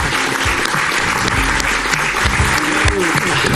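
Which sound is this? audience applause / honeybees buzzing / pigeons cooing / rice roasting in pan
audience applause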